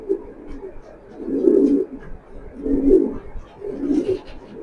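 A racing pigeon coos close by in four soft, low, rounded phrases spaced about a second apart, with a little faint background noise between them.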